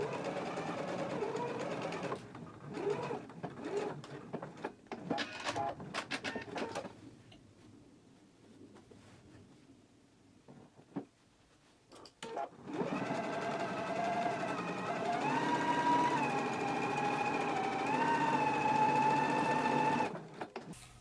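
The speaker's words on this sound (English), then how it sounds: "begin stitching here and back stitch, and then continue sewing to the hem, leaving the pocket unsewn" A sewing machine stitches the side seam of a pair of shorts, running in short rattling bursts with handling noise and a pause, then a long, steady, whirring run near the end.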